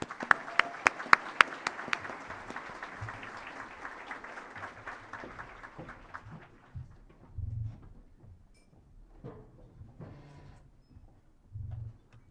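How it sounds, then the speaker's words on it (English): Conference audience applauds catering manager Laura Dimmick, a few sharp claps standing out near the start; the clapping thins and fades over several seconds, leaving quiet room noise with occasional low thumps. "Let's give her a round of applause."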